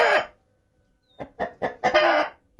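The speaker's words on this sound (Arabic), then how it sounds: "طبعا الديك بيعمل صوت خايف على فراخه" A rooster guarding its hens gives a sharp call, then after a short pause a run of four or five close, loud clucking bursts rising into an agitated cry.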